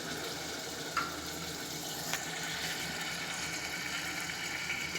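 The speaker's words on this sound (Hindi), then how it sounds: "ये रहा पानी, जितना राइस होता है उसका डबल पानी लेना चाहिए।" Water poured into a cooking pot for rice, a steady close rushing splash that runs throughout, with a couple of faint clinks and no talk.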